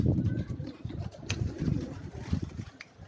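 Pigeons on a Karachi rooftop, a young bird from a prized breeding pair, give low, soft cooing calls in an irregular stream, close by and moderately loud, with faint rustling around them and no talking.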